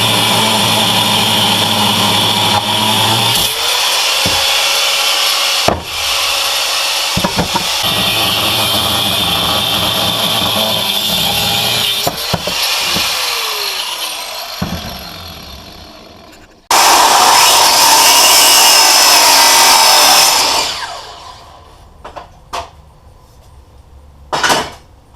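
A power tool cuts steel pieces for a shingle cutter build in a workshop, a loud steady high-pitched grinding whine with a few clanks and pauses, then another intense burst of cutting.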